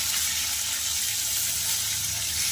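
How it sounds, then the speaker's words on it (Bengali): Pre-soaked soya chunks fry in hot oil in a pan, giving a steady, close bubbling sizzle with a faint watery hiss that runs without a break and with no voices. "এবার ওই তেলেই দিয়ে দেবো আগে থেকে ভিজিয়ে রাখা কিছুটা পরিমাণ সয়াবিন। সয়াবিনগুলোকে আমি ভেজে নেব।"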